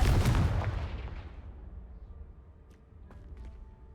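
A fire-blast spell goes off in Hogwarts Legacy, a loud close boom that rolls out and fades over a few seconds, followed by faint scattered clatter of debris in the quiet afterward.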